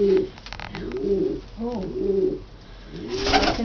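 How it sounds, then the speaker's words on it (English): Pet pigeons cooing close by, soft low throaty coos repeating in overlapping phrases against a faint background hiss, with no talking. "let's first of all get a bit of sound bites from them"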